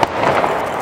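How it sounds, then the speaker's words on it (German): A Pyroshow 2000 Hermes firework battery (240 shots, 20 calibre, 2 kg net explosive) fires on New Year's Eve, heard as a brief, loud, dense burst of crackling bangs close by. "Pyroshow 2000 Hermes. 60 Sekunden, 2 Kilo NEM, 20 Kaliber und 240 Schuss."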